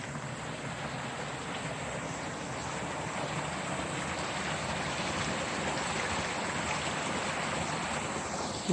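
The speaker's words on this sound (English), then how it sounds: "Here's our creek." A rainforest creek flows past a maintenance shed toward a lake, giving a steady, broad wash of running water at moderate distance, unbroken throughout with no talk.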